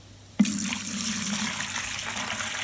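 Settled warm water pours steadily from a vessel into a cymbidium orchid pot, beginning abruptly with a splash and then running as a continuous, close, moderately loud stream.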